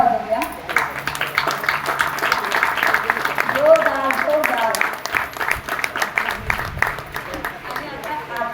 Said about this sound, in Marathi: जरा त्यांच्यासाठी आपण टाळ्या वाजवूया.